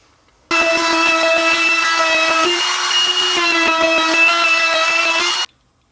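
A power sander hums and buzzes loudly for about five seconds against a wooden stool board, with a steady droning tone and a slight pitch drop midway.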